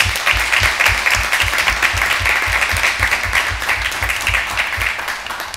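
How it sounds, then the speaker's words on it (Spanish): Warm applause from the audience at a session on women's local political participation, a dense, sustained burst of many hands clapping loudly for several seconds with no talk over it. "solicito un caluroso aplauso."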